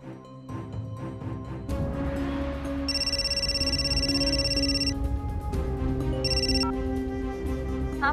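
A telephone rings on an outgoing call in a Hindi family drama: two bursts of bright, repeating electronic ringing, the first longer and the second short, play over continuous background music.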